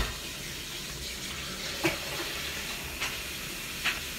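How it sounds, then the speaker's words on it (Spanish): Dishes are washed under a running kitchen tap while beans fry nearby, a steady soft hiss of flowing water with three brief clinks of dishware spaced across it, close and fairly quiet. "lo que está friendo, vamos lavando los trastes"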